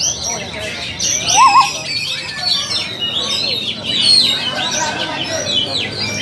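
At a songbird competition, oriental magpie-robins (kacer) pour out rapid, high chirping and whistled phrases, several birds overlapping near and far, while people talk in the background.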